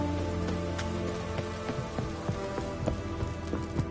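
Steady rain falls in The Witcher III: Wild Hunt, a continuous wash of droplets with sharp individual drop hits, joined by hoof-like clip-clop beats from a horse.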